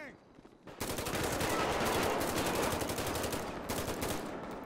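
Sustained automatic gunfire in GTA 5 during a police hostage standoff, a dense rapid stream of close, loud shots that starts abruptly and keeps going with little pause.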